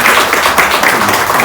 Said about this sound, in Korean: 우리 한번 박수로 좀 환영하도록